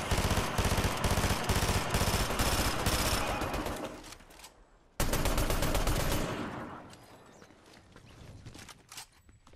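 Rapid automatic gunfire in a Fortnite Chapter 5 battle royale match, loud, dense bursts that run for several seconds, stop briefly, then resume before trailing off into scattered single shots.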